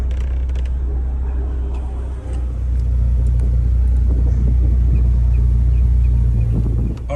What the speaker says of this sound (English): this is how it sounds at idle with the MagnaFlow muffler.